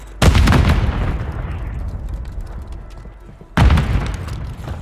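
Two heavy Semtex grenade blasts in Call of Duty, each a loud close boom with a long rumbling decay, the second arriving a few seconds after the first.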